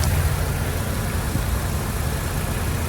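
A previously non-running car, just jump-started on a trailer, idles with a steady, even low engine rumble that holds at constant loudness throughout, with no talking.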